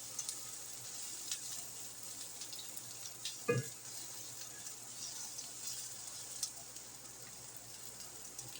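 Apple pie filling being stirred in a pan, a soft steady sizzle with light scraping and a single clunk of the spoon against the pan.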